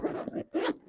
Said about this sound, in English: Undo my zipper.